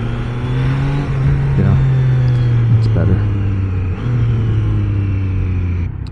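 A Triumph Trident 660 triple-cylinder motorcycle engine runs with a steady low drone that swells in a couple of revs, close and loud, under a rider's brief speech.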